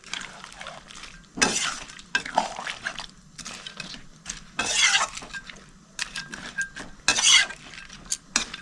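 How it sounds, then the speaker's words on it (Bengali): A spoon scrapes and stirs mourola fish with kochur loti in a pan, with irregular clattering bursts against the metal and a faint sizzle between strokes, close and fairly loud. "মাছটা দিয়ে ভালো করে মিক্স করে নিচ্ছি।"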